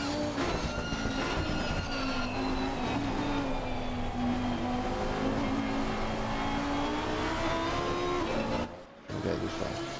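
Lamborghini race car in Assetto Corsa Competizione at the Nürburgring: a loud, close engine note that holds high and shifts gradually, with a brief dip near the end as it changes gear.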